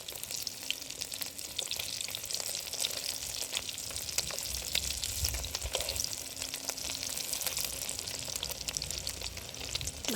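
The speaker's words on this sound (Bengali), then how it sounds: "আমি এক একটা পিস ভেজে নেব, হালকা আছে হালকা করে ভেজে নেব।" Pieces of cabbage and egg fry in oil in a wok, with a close, constant crackling sizzle full of dense spatters and pops, and no voices.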